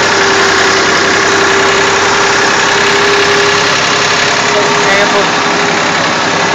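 A tractor engine runs steadily close by, a loud, constant mechanical drone with a faint knocking texture, lasting the whole stretch without pause.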